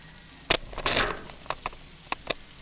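Homemade meatballs browning in a pan sizzle with a soft frying hiss, broken by a few sharp clicks and taps of cookware, close and without talk.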